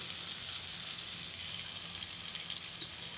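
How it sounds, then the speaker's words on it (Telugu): Ridge gourd curry cooked with milk simmers and sizzles in a pan, a steady close, soft frying hiss that runs continuously without any voices. "మూత పెట్టి మొత్తం ఉడికేంత వరకు ఉడికించాలి"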